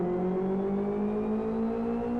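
Stripped-out racing car engine with side exhaust in the Live For Speed driving game, a steady loud harmonic drone holding a constant rev note throughout, alone with no talk.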